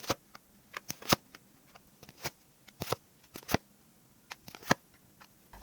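Tarot cards shuffled and drawn at a table, heard as quiet, irregular papery flicks and snaps scattered throughout, close and with no voices.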